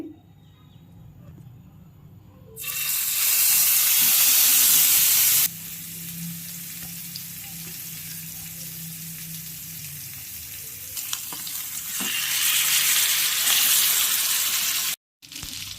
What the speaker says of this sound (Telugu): ఇప్పుడు ఫ్రై చేసుకుందాం